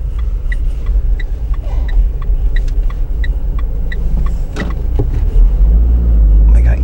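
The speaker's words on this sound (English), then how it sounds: "I'm going to stick my car on the end here." Car being parked at the end of a row in a small hamlet, its engine rumbling low and steady close by while the vehicle edges slowly into place, with a few light clicks and a heavier thud near the finish.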